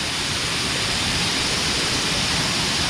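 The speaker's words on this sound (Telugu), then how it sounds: "చూడండి వాటర్ ఫాల్స్ అయితే ఎలా ఉందో, బడిగుంట వాటర్ ఫాల్స్" Rushing water at Badigunta waterfall near Akuru, Rampachodavaram, heard up close as a dense, unbroken roar that stays loud throughout, with no voices.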